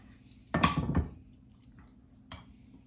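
Plating a hot, freshly seared ribeye steak brings a sharp clatter of dishes and utensils, one clustered burst of clinks followed by a fainter knock a moment later in a quiet kitchen.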